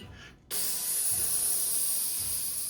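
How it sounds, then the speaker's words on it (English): A short burst of cooking spray onto a jelly mold hisses steadily for about two seconds, close and clear after a brief quiet moment. "Grab your favorite mold and you're gonna give it a spray."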